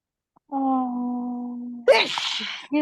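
A single person sneezes once, loudly and close, preceded by a short sustained vocal tone.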